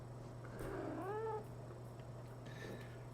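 A cat gives a single drawn-out, wavering meow, fairly close and clear over a steady low hum, followed by a shorter faint cry.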